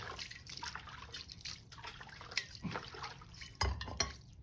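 Water runs and drips over a plate being washed by hand, with faint clinks of the dish and a couple of sharper knocks near the end, fairly close and without talk.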